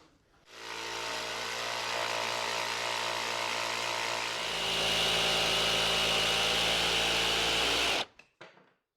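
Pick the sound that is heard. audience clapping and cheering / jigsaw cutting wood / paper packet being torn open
jigsaw cutting wood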